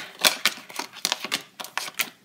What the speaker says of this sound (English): we are cutting the deck for Lil Durk